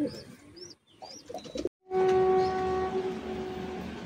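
A male pigeon calls inside a loft of high-flying Madrasi pigeons during rain, with brief bird chirps early on, a short gap, then a steady sustained tonal drone over background noise.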